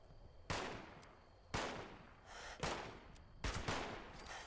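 Gunfire in the video game Fallout 76, four sharp blasts spaced about a second apart, each followed by a decaying rumble tail, moderately distant and fairly quiet, with no talking.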